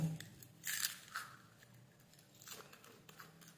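Crunchy shrimp-flavored, slightly spicy PR BigBang snack chewed close to the mic, with repeated crisp crunching bursts that fade into softer chewing, no talk over it.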